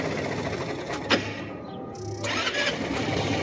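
A Bajaj Pulsar Rouser NS200 motorcycle on jumper cables with a weak battery being started: a starter cranks with a sharp catch at about one second, then the engine turns over again and settles into a mid-pitched running note, close by.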